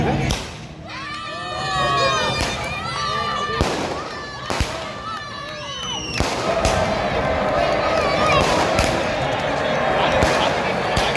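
Fireworks burst in sharp, loud cracks and pops at an outdoor World Cup big-screen viewing, repeated irregularly over a constant roar of crowd noise, with voices talking throughout.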